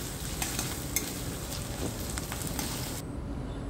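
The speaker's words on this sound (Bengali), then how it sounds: "আদাটাকেও একটু ভালো করে নেড়ে চেড়ে ভালো করে ভেজে নিতে হবে।" Ginger paste fries in hot oil in a pan, giving a steady crackling sizzle with light scraping and stirring, then cuts off abruptly near the end, with no talking.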